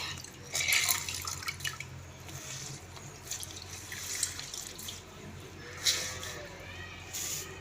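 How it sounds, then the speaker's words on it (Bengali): Bottle gourd leaves are rinsed by hand under a running tap, with close splashing and dripping water that swells and fades as the leaves are moved. "তো লাউয়ের পাতাগুলো এভাবে আমি ধুয়ে নিচ্ছি"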